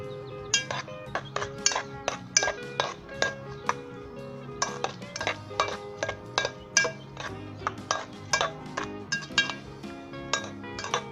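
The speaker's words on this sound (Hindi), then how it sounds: "अच्छे तरीके से इसे मिक्स कर लेंगे" A spoon clanks and scrapes against a bowl in quick, irregular bursts while a cabbage, apple and macaroni salad is stirred together. The clinks come close and fairly crisp, and no one speaks.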